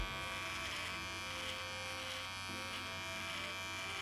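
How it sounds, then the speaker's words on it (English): Beard Hedger Plus electric trimmer buzzing steadily and close up as it cuts along a beard line, a continuous even motor hum with no pauses. "Turn the trimmer upside down and go back into that line."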